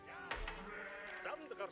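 Sheep bleating in the real-time strategy game Age of Empires IV, a couple of short wavering bleats close by over low game ambience, with a voice faintly underneath.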